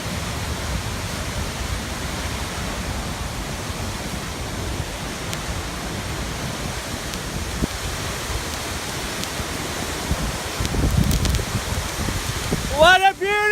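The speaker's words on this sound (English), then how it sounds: "I can hear the raging waterfalls" A raging waterfall on a trail near Asheville, North Carolina sends a steady broadband roar throughout, continuous and fairly loud, with a voice briefly rising at the very end.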